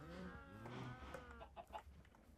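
Minecraft chickens cluck in short, choppy bursts over a soft continuous game background, moderately close.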